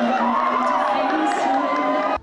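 A large crowd cheers and shouts continuously at a live public event, loud and dense throughout, then cuts off abruptly at the end.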